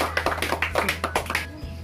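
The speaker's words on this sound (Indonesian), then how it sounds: "Silahkan tepuk tangan semuanya." A handful of sharp, evenly spaced hand claps in a school classroom, moderately close over a steady low hum.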